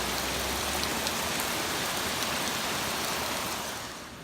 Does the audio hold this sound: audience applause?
no